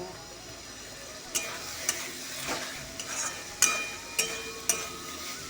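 Chicken meat being sautéed in a pan gives a low steady sizzle, punctuated by regular scraping strokes of a spatula against the pan roughly every half second, close and moderately quiet.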